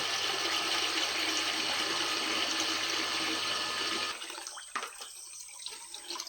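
Water rushes steadily into a container being filled for a dog to drink, a loud continuous pour that cuts off after about four seconds, leaving quieter scattered handling sounds.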